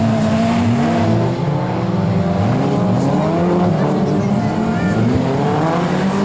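Stock cars racing around a track at a 2012 event, several engines droning and revving with layered, shifting tones, loud and continuous, while a commentator speaks over the noise.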